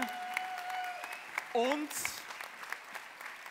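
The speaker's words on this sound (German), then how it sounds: "Applaus, alle bitte" Audience applause at the Miss Austria 2018 pageant show, scattered clapping running under a voice, with a brief louder burst midway.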